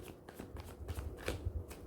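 Tarot cards being shuffled by hand, a soft rapid riffling and brushing that comes in short bursts, quiet and close, with no talking over it.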